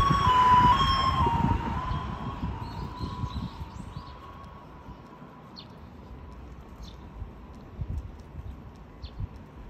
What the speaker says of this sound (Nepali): एम्बुलेन्स आयो